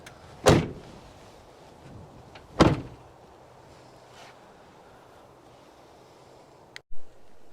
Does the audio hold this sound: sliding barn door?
yes